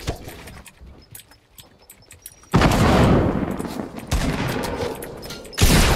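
Heavy gunfire in a Fortnite match: sparse distant shots at first, then a loud sustained burst of rapid shooting that keeps going with brief breaks and flares up again at the end.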